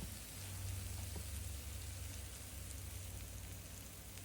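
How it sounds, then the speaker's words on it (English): Soft, steady crackling and fizzing, quiet and continuous, as hot food sizzles fresh out of a Wonder Oven Pro close by with no voices. "Sizzling straight out of the oven."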